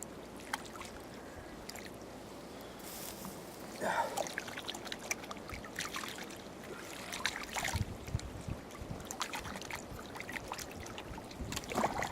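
A kitchen knife rinsed under running water in a rustic cabin kitchen after chopping trout, a steady soft pour and trickle with faint clinks throughout, fairly quiet and close.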